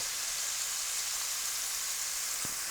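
Shrimp with sauce in a hot frying pan give a steady, bright hiss of sizzling, with one faint tap near the end.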